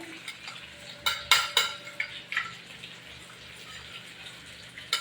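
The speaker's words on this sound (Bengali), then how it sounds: "লঙ্কা একটু কষবো" Ground spices and chillies being stirred in a hot pan for mutton kosha, with soft frying sizzle and a few sharp scrapes and clinks of a spoon against metal.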